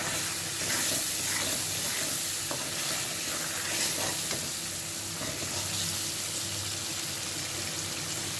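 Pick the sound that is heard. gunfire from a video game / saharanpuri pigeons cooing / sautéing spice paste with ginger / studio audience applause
sautéing spice paste with ginger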